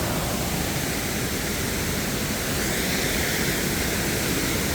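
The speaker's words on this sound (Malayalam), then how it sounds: "അവിടെ വെള്ളച്ചാട്ടം ഇങ്ങനെ പോവാ" Steady, loud broadband rush of the Pūchakkulam waterfall at Thekkuthodu, a continuous wash of falling water filling the whole clip without pause or speech.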